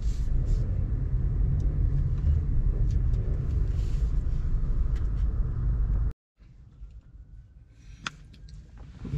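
Road traffic heard from inside a moving car, a steady low rumble of tyres and engines for about six seconds, then a sudden drop to quieter road hum with a few faint clicks.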